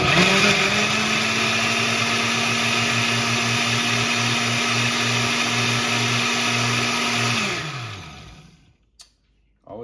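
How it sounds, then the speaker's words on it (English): A blender runs at high speed, chopping cayenne peppers, cherry tomatoes and garlic into hot sauce: a loud steady motor whine with a churning rhythm, winding down at the end before a brief clunk. "I like to use the blender over the food processor for this"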